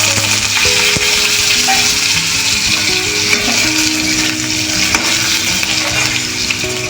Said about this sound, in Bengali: এবারে সবজিটা ভেজে নেব।